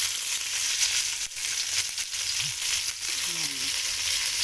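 Onion and tomato, with garlic, sautéing in a pan for a mussel dish: a steady, moderate sizzle with faint stirring scrapes, no voices.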